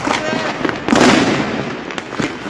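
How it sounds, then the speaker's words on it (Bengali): Fireworks and firecrackers set off on a city street in the capital, bursting at ground level, give sharp cracks and a dense crackling roar, loud and close with crowd noise around. "আতশবাজি ফাটানো কালে আমরা দেখেছি আসলে আতশবাজিগুলো উপরে না উঠে যে স্থান থেকে ফাটানো হচ্ছে, ঠিক সেই স্থানে ফাটছে"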